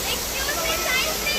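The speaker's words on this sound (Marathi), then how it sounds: "तुम्ही तो वॉटरफॉल बघितला तिथून खाली आला तर बघा हे असं वाहतच राहतं पाणी" Water pouring down small monsoon waterfalls at Jummapatti, Matheran, a constant dense rushing hiss close by, unbroken and even throughout.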